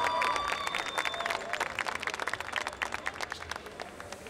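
A concert audience at FIC Texcoco 2019 applauds, with dense, fairly loud clapping that thins into scattered individual claps toward the end, over faint background chatter.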